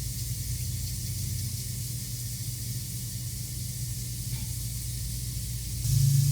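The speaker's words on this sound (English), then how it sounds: "You can hear it sizzling." Bison strips sizzle on a George Foreman electric grill: a steady, soft hiss that holds evenly throughout, with a low rumble swelling at the very end.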